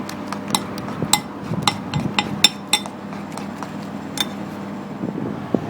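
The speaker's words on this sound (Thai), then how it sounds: "จากนั้นก็ตีผสมกันเลยครับ" Quick, irregular clinks and taps of a utensil whisking eggs and banana in a bowl, close by, with a faint steady hum behind.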